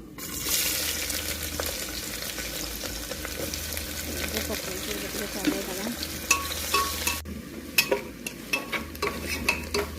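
Onions frying in oil with bay leaf, cinnamon, cardamom and dried red chillies for tomato rice, a dense steady sizzle with frequent stirring scrapes that grow sharper and more distinct toward the end, heard close without speech.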